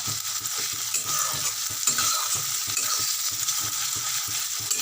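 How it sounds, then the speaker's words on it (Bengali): Steady sizzling of bhola fish frying in a pan, with occasional scraping and stirring clicks throughout; no voices. "এখন ভাজা হোক আর একটু ভাজা হবে"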